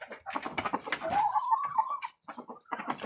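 A red labuyo chicken, a native Philippine breeder bird, gives a run of close clucks and a short drawn-out call, broken by a brief pause and then more clucking.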